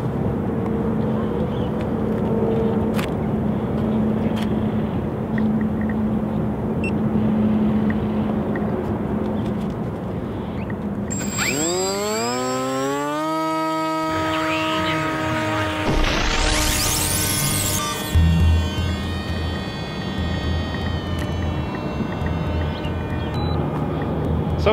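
A Versa Wing RC delta wing plane on its maiden flight, its electric motor whining with rising and falling pitch as it passes, loudest mid-clip with a sharp climbing whine, over background outdoor noise and wind.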